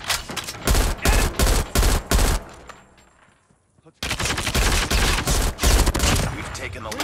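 Rapid bursts of gunfire in Call of Duty Mobile ranked multiplayer, loud repeated automatic shots in clustered volleys, a brief near-silent pause, then another sustained string of firing.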